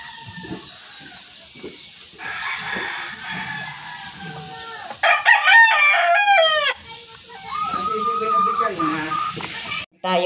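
Chickens cluck and a rooster crows loudly nearby on a small farm with pigs and rabbits, bursts of calling rising and falling over roughly ten seconds while a person talks intermittently in between.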